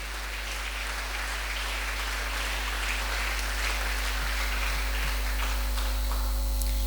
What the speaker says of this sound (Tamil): நாங்கள் அனைவருமாக ஒரு உயர்ந்த கரகோஷத்தை நாங்கள் தட்டி தேவனுடைய நாமத்தை மகிமைப்படுத்துவோம்.